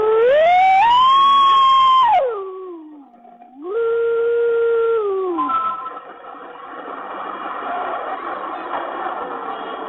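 A recorded ambulance siren blares from an AI-driven elephant deterrent device in Kemmarampalayam near Mettupalayam, rising and falling loudly and close before giving way to other recorded mechanical noise.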